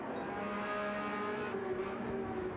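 A GTE race car engine hums with a steady, tonal drone in a racing video game during a pit stop for new tires and fuel, sounding moderately faint and continuous with slight pitch shifts.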